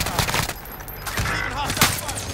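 Bursts of gunfire in the Warzone video game crack out loud and close, rapid shots clustered throughout over a busy game backdrop, with a voice talking underneath.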